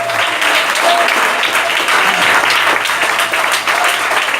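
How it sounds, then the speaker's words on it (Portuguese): A church congregation claps and cheers after a preacher's call to praise, a dense, steady wash of applause filling the space at close range, with a faint low hum underneath. "Aplauda o Senhor"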